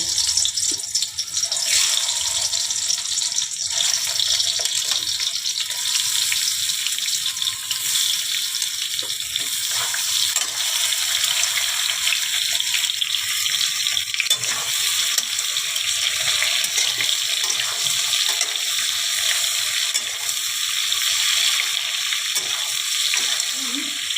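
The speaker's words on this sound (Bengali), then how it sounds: "আমগুলোকে দেখুন আমি সর্ষে তেল দিয়ে নিয়েছি আমগুলোকে একটু ভেজে নেব" Raw mango pieces frying in mustard oil in a home kitchen for a sweet-sour mango pickle, a steady bright sizzle and hiss running the whole time with faint stirring clinks, no talk.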